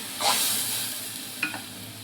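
Roasted mustard paste poured into a hot pan, hitting with a sharp burst of sizzling that settles into a steady hiss, plus a brief scrape of stirring near the end, close, no talking.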